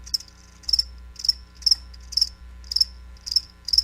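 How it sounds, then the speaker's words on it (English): Cricket chirping as a sound effect in a radio ad: regular short trilled bursts, roughly two per second, clear and close over a low steady hum, with no talking. "That's right, crickets."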